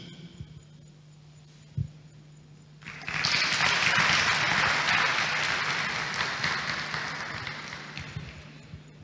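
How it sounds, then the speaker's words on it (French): Graduates of a professional nursing-care degree program stand and applaud at their diploma ceremony; after a quiet stretch with a single soft knock, loud, dense clapping erupts and continues steadily to the end. "je les invite à se lever et à applaudir eux-mêmes"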